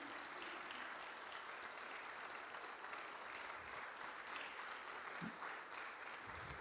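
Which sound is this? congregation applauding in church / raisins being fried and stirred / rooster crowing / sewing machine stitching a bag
congregation applauding in church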